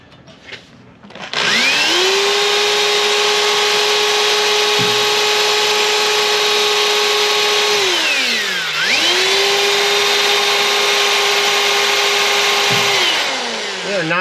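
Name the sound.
power drill drilling with drill bits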